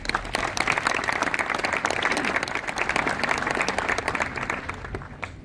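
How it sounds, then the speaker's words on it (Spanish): Audience applauding at a book presentation at a book fair, steady dense clapping from a crowd filling the room, loud and continuous throughout without a break. "Le brindamos un fuerte aplauso."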